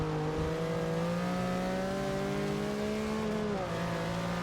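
Race car engine in Forza Motorsport 6 holds a steady, loud drone under moderate throttle, pitch rising gently then dipping briefly before settling, continuous with no talking.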